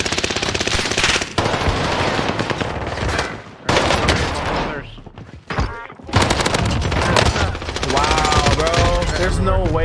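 Sustained automatic gunfire from a Call of Duty Warzone match on Rebirth Island, with loud rapid bursts running nearly nonstop, a few brief gaps and some booming impacts, and voices faintly underneath.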